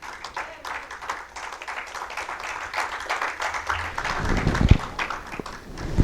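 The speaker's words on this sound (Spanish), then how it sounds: "denle una ofrenda de palmas al Señor," Church congregation clapping as an offering of praise, a steady fairly close patter of many hands that swells toward the end with a few thumps, no speech over it.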